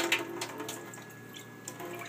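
Faint, steady trickle and splash of water being strained out of homemade fish and coral food, with soft scattered drips and no talking.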